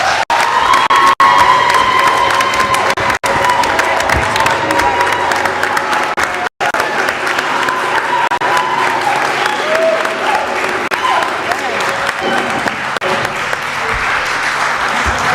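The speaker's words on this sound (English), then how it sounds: "let's have a round of applause for that" A crowd at a Columbus public meeting applauds and cheers an adopted resolution backing an immersion program, loud sustained clapping mixed with whoops and shouts, some voices high like children's, running for fifteen seconds with a few brief breaks.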